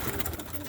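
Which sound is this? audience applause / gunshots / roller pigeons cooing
roller pigeons cooing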